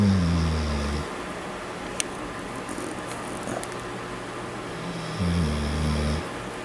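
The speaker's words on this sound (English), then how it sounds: "dog snoring" A dog snores twice slowly, once at the start and once near the end, low and rumbling, close by with quiet background between them.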